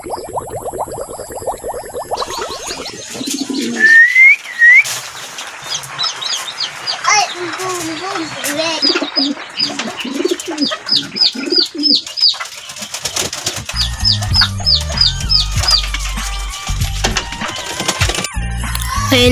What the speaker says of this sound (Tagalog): Ayan na guys yung mga kalapate natin na nakauwi.